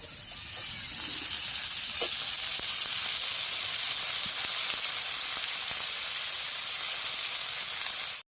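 Fresh spinach is added to hot oil and spices over fried prawns for a sour spinach dish, and it sizzles loudly and steadily at close range without a break.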